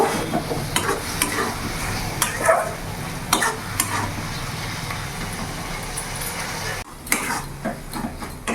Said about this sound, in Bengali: টমেটোগুলো আমি পুরোটা দিয়ে দেবো আর ভালো করে মিশিয়ে নেব